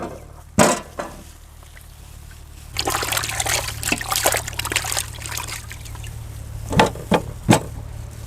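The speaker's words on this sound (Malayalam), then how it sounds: "നമുക്ക് ആദ്യം നല്ല മാംഗോ നന്നായിട്ടൊന്ന് വെള്ളത്തിൽ കഴുകിയെടുക്കാം" Water trickles and splashes while ripe mangoes are washed, a soft running flow broken by several sharp splashes near the start and end, close by with no talk.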